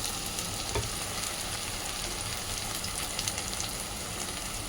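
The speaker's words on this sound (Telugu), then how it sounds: "బాగా వేయించాలి. నూనెలోనే బాగా మెత్తగా అయిపోతుంది." Mutton liver fries in oil with chilli powder, a continuous, even crackling sizzle close to the pan with no voices over it.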